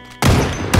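A burst of rapid gunfire from the Project Zomboid video game erupts suddenly after a brief quiet moment, loud and close, with a second sharp burst near the end.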